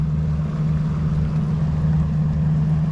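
A fishing boat's outboard motor idles on the Mississippi River during a bass tournament, a steady low hum that is loud and close, with no other sounds over it.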